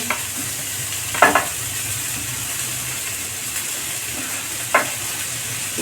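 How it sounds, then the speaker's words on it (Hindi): Carrot and cabbage stir-fried in a pan, with a steady low sizzle and a few brief scraping stirs of a spatula against the pan. "डाल के सबको फ्राई करेंगे। ऐसे चला के सबको मिक्स करेंगे"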